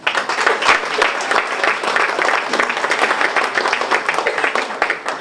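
An audience at a charity ball breaks into loud, sustained applause, a dense wash of many hands clapping with no voices rising above it.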